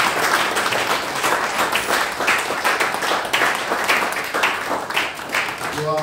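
A church congregation applauding to acclaim the Lord during a service, producing a dense, steady wash of many hands clapping that holds at full strength for several seconds, with some faint voices mixed in.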